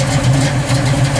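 A 1970 Pontiac Firebird's engine idles loud and close, a steady deep burbling drone with a faint lope and no voices over it.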